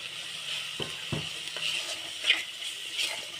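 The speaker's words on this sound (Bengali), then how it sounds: "এটা আমি একটু নেড়ে নিচ্ছি" Turmeric, coriander and garam masala powders sizzling in a pan for masala paneer as they are stirred, a steady close frying hiss broken by a few soft spoon scrapes, with no voices.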